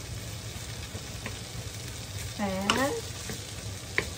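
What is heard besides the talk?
rice with chili paste toasting in a pan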